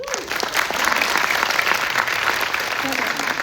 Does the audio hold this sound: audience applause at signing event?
yes